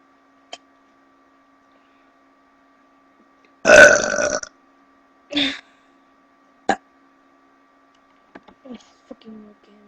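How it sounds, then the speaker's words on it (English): A girl lets out one long, loud burp, followed by a shorter burp and a few faint clicks and small noises, with brief quiet gaps between them and no talk. "Okay, I will burp."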